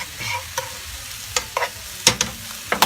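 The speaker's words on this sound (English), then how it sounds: "What you want to do with your wine is just cook the alcohol out." Wine sauce reduces in a pan for pork fillet with sundried tomatoes, a low bubbling sizzle with several short scraping clicks of a utensil against the pan, close and clear with no talk.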